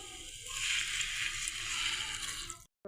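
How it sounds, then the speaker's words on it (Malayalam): Soaking water from dried mango pours into a hot pan of fried chili and oil for pickle, a fairly quiet rush and sloshing sizzle lasting a couple of seconds before stopping abruptly. "നമുക്കിനി അതിലേക്ക് ഈ കുതിർത്ത് വെച്ച വെള്ളം ഒഴിച്ച് കൊടുക്കാവേ"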